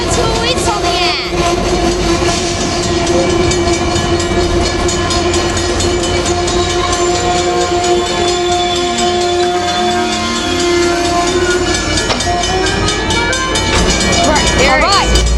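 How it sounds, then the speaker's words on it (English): An Amtrak 572 train led by an F59PHI locomotive pulls out of San Juan Capistrano, a loud, sustained diesel rumble with a steady engine tone and rolling wheel noise up close. "here goes the Amtrak 572 out of San Juan Capistrano right now"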